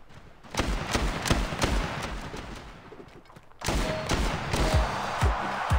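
Rapid bursts of gunfire, shotgun blasts among them, in the mobile shooter Standoff 2, loud and dense, cutting out briefly before resuming.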